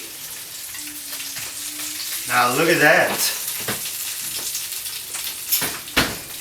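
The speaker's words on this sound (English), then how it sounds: "They are sizzling and drizzling juices that are real good." Steady sizzling and crackling of meatballs in hot juices just out of the oven, with someone speaking briefly over it and a few sharp clinks.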